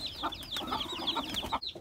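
Aseel chickens on a farm clucking in quick repeated bursts with chirpy calls close by, a fairly busy flock sound that cuts off abruptly near the end.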